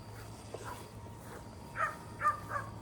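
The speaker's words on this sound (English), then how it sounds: "Oh, Chica, I hear you barking" A few short barks ring out in the distance, spaced irregularly over a low steady background hum.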